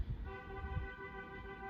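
Street traffic heard from indoors, a short sustained car horn honk over low rumbling road noise, fairly faint and distant.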